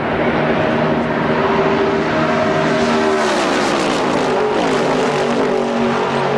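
IROC race cars circling Daytona Speedway in the 1986 event, engines roaring loud and close as a pack runs nose to tail, with pitch sweeps of cars passing and no voices over the din.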